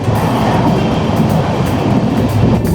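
A passenger train rolls along the hill route from Kolkata toward Mizoram, heard from inside the carriage as a loud, unbroken rumble and rattle of wheels and coach, with no voices.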